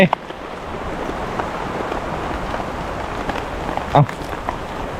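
Steady rain patters across the whole stretch, a dense hiss with scattered louder drops, while a voice speaking Thai talks briefly over it near the end.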